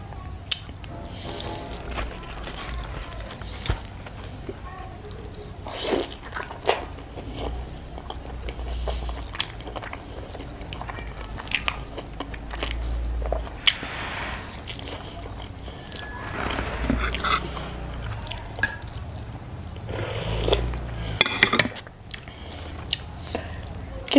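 Close-up chewing and soft biting while eating tender braised pork leg with hot steamed rice, with moist, squishy bites, occasional clicks and quiet background hum running through a long stretch with no talk.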